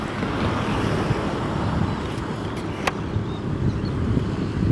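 Road traffic on the Padang–Bukittinggi road in the days after Lebaran, a steady broad roar of passing vehicles mixed with heavy wind buffeting, with no clear individual pass-bys standing out.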